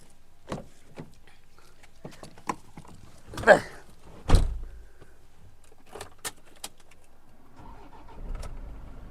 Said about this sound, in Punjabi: ਹੁਣ ਤੁਹਾਨੂੰ ਸਟਾਰਟ ਕਰਕੇ ਵੀ ਦਿਖਾਉਣੇ ਆ ਗੱਡੀ ਵੀ ਇਹਦੀ ਆਵਾਜ਼ ਕਿਦਾਂ ਦੀ ਆ ਸਾਇਲੈਂਟ ਕਿੰਨੀ ਆ ਗੱਡੀ